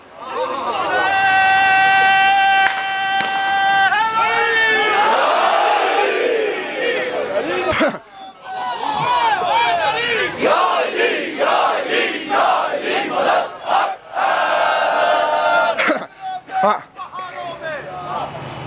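A large crowd at a religious gathering shouts slogans in loud, repeated bursts, with voices overlapping in a dense roar and a leader's voice rising between the waves of chanting.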